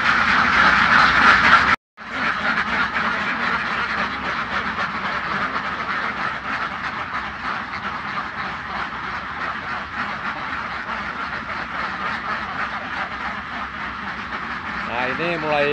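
Umbaran laying ducks quacking in a pen during egg collection, a dense, loud and continuous chorus of overlapping quacks that runs throughout with no break except one brief dropout.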